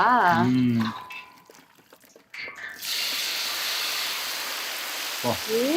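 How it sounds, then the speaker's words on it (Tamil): Food sizzles and crackles steadily in hot sesame oil in a pan, a continuous frying hiss after a brief voice at the start. "நல்லெண்ணெயில பொரிக்க போறாங்களா?"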